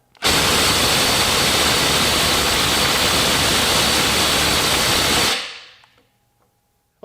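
A Milwaukee impact driver pushed to 400 foot-pounds roars in a loud, steady, hissing burst for about five seconds, then cuts out abruptly on thermal shutdown and fades to near silence.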